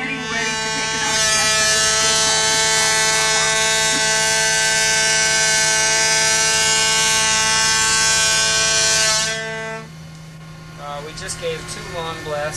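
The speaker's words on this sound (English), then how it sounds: "Would you please blow your foghorn?" A ship's foghorn on a Greenpeace vessel at sea gives one long, loud, steady blast of roughly eight seconds, then cuts off, leaving faint background noise.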